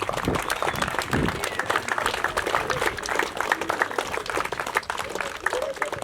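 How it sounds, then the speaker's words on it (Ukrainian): An audience applauds at a community event honouring a young female boxer, a steady dense clapping that carries through six seconds at moderate distance, with some voices mixed in. "Ваші оплески!"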